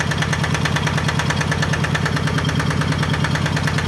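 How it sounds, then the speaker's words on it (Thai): A newly rebuilt engine runs at a slow idle: a loud, close, steady rhythmic thumping with an even pulse throughout and no voices. "รอบสโลครับ เปิดไฟให้ฟังให้ดู"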